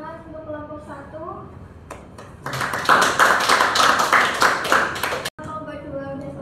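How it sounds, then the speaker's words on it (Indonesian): A classroom of students applauds a presenting group with a burst of loud, dense clapping lasting about three seconds, with a teacher's voice speaking before it and again after. "tepuk tangan untuk kelompok 1."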